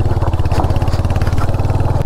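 A Royal Enfield Hunter 350 single-cylinder engine thumps in a fast, even low pulse while off-roading on rough ground, close and steady with some clatter.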